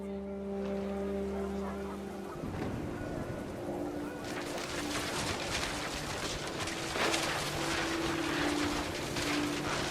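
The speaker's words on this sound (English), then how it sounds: "The wind picked up and panicked geese appeared and quickly went." Panicked geese honk in the video game What Remains of Edith Finch as wind picks up, a burst of overlapping honks swelling over a low droning tone, fairly faint and with no speech.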